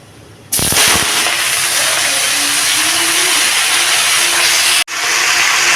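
Greens hit a hot pan of chilli tempering with a sudden loud burst of sizzling that settles into a steady, close, crackling hiss, briefly dipping before carrying on.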